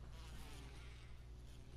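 Bees swarm in the Resident Evil HD remake, a dense, continuous buzzing drone that is close and steady for the whole moment, with no talking.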